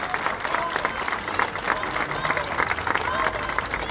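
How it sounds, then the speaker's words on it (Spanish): Dense applause from a large crowd fills a hospital reinauguration ceremony, steady and loud throughout with scattered cheering mixed in. "para quien pido un fuerte aplauso"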